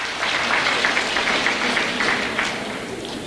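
An audience at Cheil Hospital's 31st anniversary ceremony in 1994 gives sustained, even applause that tapers slightly toward the end.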